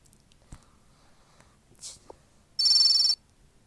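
A short electronic ringtone burst sounds once, loud and clear against a quiet room, after a couple of faint knocks and rustles.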